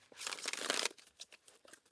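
A tarot card deck is shuffled by hand: a dense, close papery riffle for about a second, then a few softer flicks and taps of cards settling, quiet and with no talking.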